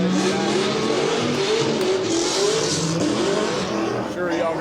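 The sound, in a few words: loud Nissan 350Z race car engine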